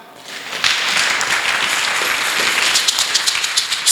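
A church congregation applauds together in a steady, dense wash of clapping that swells quickly and holds loud and close for several seconds.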